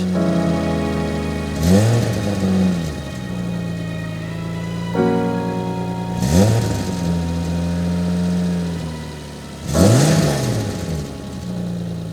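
A BMW E30 engine idles steadily after a cold start with a new bushing fitted, broken by three quick throttle blips that rise and fall, heard close and loud with no talk.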